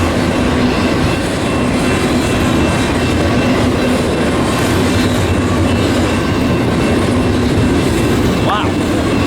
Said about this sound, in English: as this freight heads eastbound, we have a westbound coming eventually here